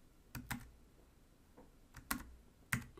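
Keys on a computer keyboard are struck in a sparse, irregular series of about six sharp clicks while a date is entered, close and clear against quiet room tone, with no talking.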